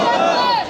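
A large crowd at a Palestinian solidarity rally in Burewala, Vehari, roars a slogan response in unison: one loud, short, massed shout.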